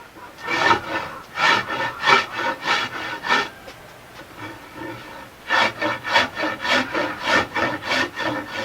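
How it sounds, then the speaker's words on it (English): Rough side of a hand rasp shaping the corners of a scrap-wood canoe paddle, in close, steady rhythmic strokes: a run of about eight scrapes, a brief pause, then another quick series. "Got the rough side of my rasp. Now I'm just taking wood off on these corners"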